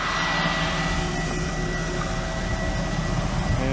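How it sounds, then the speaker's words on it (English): The pump on a Hagie sprayer runs while its tank fills, a steady loud mechanical whine and drone that holds constant throughout with no speech. "flip on the pump."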